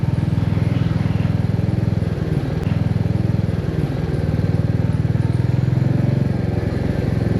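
A Royal Enfield Meteor 350 motorcycle rides along in first gear, its single-cylinder engine thumping in a rapid, steady pulse close by, with constant rumble and no talk.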